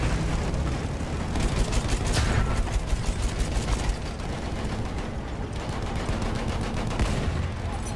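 Rapid gunfire in a Battlefield video game battle, a dense stream of automatic shots rattling steadily for several seconds amid loud rumbling combat noise, with no talking over it.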